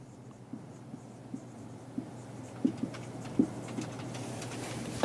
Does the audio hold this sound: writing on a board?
yes